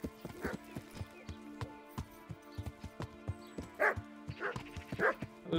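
A dog barks repeatedly in the medieval role-playing video game Kingdom Come: Deliverance. The sharp woofs and yips come at an irregular pace over steady horse hoof clip-clops and a low background hum.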